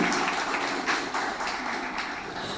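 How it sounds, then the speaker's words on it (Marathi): An audience at a school science day event applauds a speech competition winner, producing steady, moderately loud clapping that continues throughout as a dense, even patter. "त्याचंही आपण टाळ्या वाजवून स्वागत करूया"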